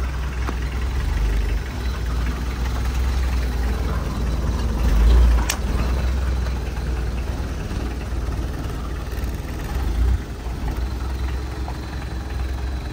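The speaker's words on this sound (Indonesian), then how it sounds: "Teman-teman di YouTube jarang dengar mesinnya kan? Nih. L300 tahun 97." A 1997 Mitsubishi L300 engine idles steadily nearby, a constant low rumble with a brief swell partway through and no talking.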